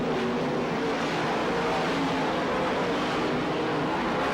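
Sprint cars racing on a speedway track at the 1994 Warrnambool Australian Sprintcar Championship, a continuous dense engine roar, loud and unbroken, with no clear speech.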